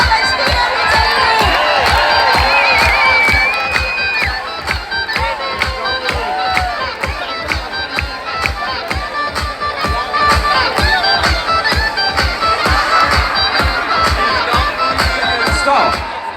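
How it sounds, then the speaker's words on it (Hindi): A large crowd of employees at a Samsung achievement celebration clap in a fast, steady rhythm and cheer loudly throughout, with shouting voices and whistles layered over the continuous beat. "तालियां बजती रहनी चाहिए।"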